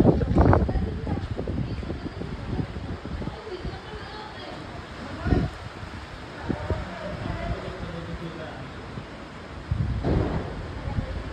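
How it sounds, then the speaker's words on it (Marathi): Heavy rain in a storm roars steadily with gusting wind buffeting the microphone, occasional louder bursts and a person talking intermittently over the downpour. "हे बघा किती जोरात पाऊस पडते आणि वादळ सुटलेले आहे"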